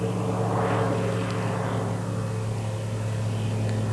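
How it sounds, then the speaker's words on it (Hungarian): A small single-engine propeller plane passing overhead outdoors, heard as a steady, continuous drone with a low tonal hum and broadband rumble that holds throughout, moderately loud with no talking. "Közben itt megy egy kis motoros repülő fölöttem."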